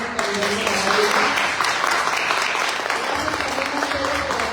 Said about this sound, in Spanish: Sí les pido un aplauso muy cariñoso para ellos.